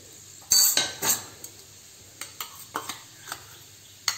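Hing and cumin seeds drop into hot mustard oil in a kadhai, giving a few sharp metallic clinks of a spoon against the pan, then softer scattered taps and light sizzling, close and fairly quiet with no talking.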